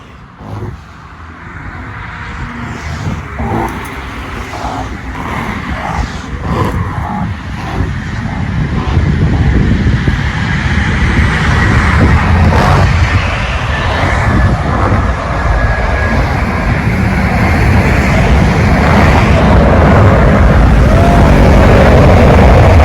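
Airliner landing at Suvarnabhumi Airport, its engine roar building into a loud, sustained rush of reverse thrust that stays strong to the end, heard from close by.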